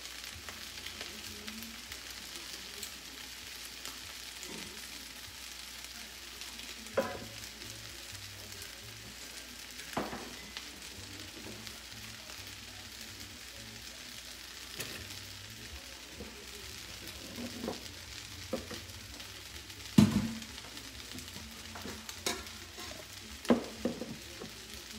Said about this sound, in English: Coming to a boil so I can cover it up in a few minutes.